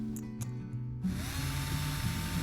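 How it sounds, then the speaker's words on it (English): Power drill boring holes for screw eyes in a carved wooden largemouth bass swimbait, starting abruptly after a second of low hum and running as a loud, steady high whine until the end. "So next I'll begin drilling in the holes for our screw eyes"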